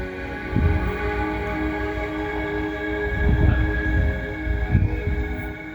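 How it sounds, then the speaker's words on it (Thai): A wheel loader levels soil at a temple construction site, its heavy diesel engine giving a loud, steady rumble with a tonal whine that swells in short surges. "รถตักกำลังปรับหน้าดินอยู่นะครับ"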